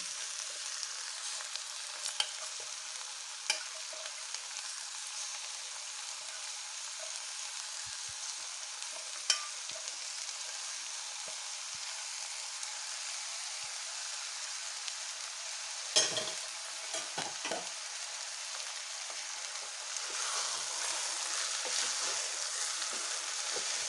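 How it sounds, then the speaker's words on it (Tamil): Drained rice is stirred in a frying pan for a coconut milk vegetable rice, giving a steady soft sizzle with occasional scrapes and clinks of the spoon against the pan, close and alone with no talk. "இப்போ அரிசியை போட்டு நல்லா வடிகட்டிக்கிட்டேங்க. ஒரு கிளறிடலாம்."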